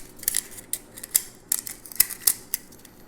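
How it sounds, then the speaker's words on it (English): Scissors snip into the aluminum wall of a soda can in a series of short, crisp close-up cuts, roughly eight sharp clicks with quiet pauses between them. "I need to cut a little deeper"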